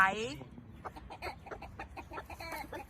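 A young rooster gives a brief, thin crow at the start, followed by chicken clucking and nearby voices.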